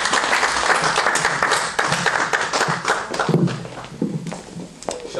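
A church congregation applauding at a French-language worship service, a dense, loud stretch of clapping from many hands filling the room, with a few voices calling out beneath it.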